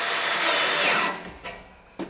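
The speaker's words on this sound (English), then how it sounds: "So you're drilling slow with pressure" A power drill drilling slowly into corten steel whines loudly for about a second, then winds down, followed by a couple of faint clicks and brief mechanical noises.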